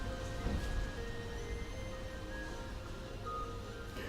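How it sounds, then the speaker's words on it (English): Rain pours down steadily outside, a dense continuous hiss heard from indoors at moderate distance, with a faint tonal hum underneath. "Can you hear that bloody rain pissing down in the background?"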